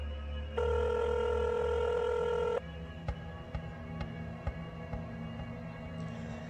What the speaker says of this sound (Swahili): Simu ya Rachel iliita wakiwa ndani ya taksi hiyo